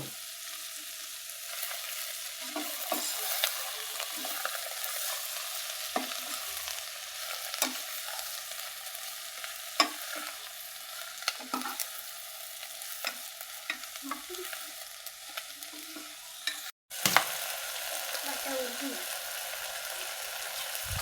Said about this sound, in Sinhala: දැන් කංකුල් ටික එකතු කරගන්නවා. එකලා හොඳට කවලම් කරගන්නවා.